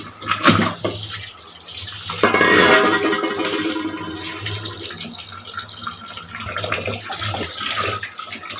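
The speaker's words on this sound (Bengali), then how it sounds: "মাংসটা ধুয়ে নিই" Water from a tap runs steadily over a batch of large-cut goat meat as it is rinsed in a basin, with a brief surge and some sloshing and splashing.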